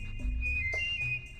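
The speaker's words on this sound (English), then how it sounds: "He can whistle." Abe, the character in the game Oddworld: Abe's Oddysee, whistles a short two-note tune, clear and close with a faint low hum underneath.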